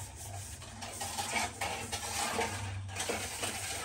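Batter being stirred and mixed in a bowl for oat banana bread, a steady soft scraping and rubbing of a spoon against the bowl with light clinks, close and continuous at a low level.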